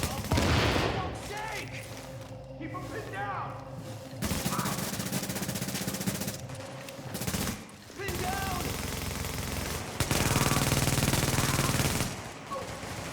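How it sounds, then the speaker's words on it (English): Video game gunfire from a tactical shooter crackles in loud, rapid bursts and sustained volleys that come and go, mixed with in-game voice alerts and players talking. "your gun sounds even louder"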